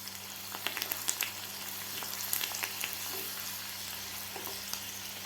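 Urad dal, garlic and curry leaves fry in hot oil with a soft continuous sizzle and scattered small crackles and pops, fairly quiet and close, over a low steady hum.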